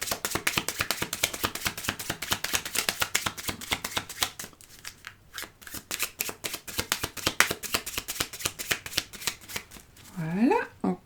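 A deck of oracle cards shuffled by hand, with rapid crisp riffling flicks in a fast, steady rhythm, a brief pause, more shuffling, then a short quiet voice sound near the end.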